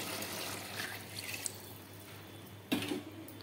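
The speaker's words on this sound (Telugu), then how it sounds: "ఇప్పుడు నెక్స్ట్ దీనిలో 3 గ్లాసెస్ ఆఫ్ వాటర్ని అయితే యాడ్ చేసుకోవాలి." Water poured into a cooking pot of aloo thotakura rice, a fairly quiet steady splashing pour with a sharper slosh near the end.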